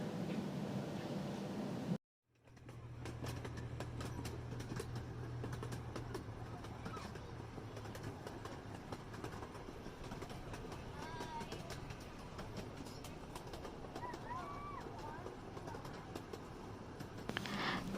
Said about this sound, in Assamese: আহকচোন আমি টয় ট্ৰেইনত উঠোঁ আৰু আগলৈ কি আছে এবাৰ চাওঁ।